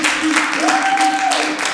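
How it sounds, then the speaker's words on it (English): Church congregation applauds a speaker, a moderate wash of clapping with voices mixed in, filling the short moment. "Let's give Brother Ivan a round of applause."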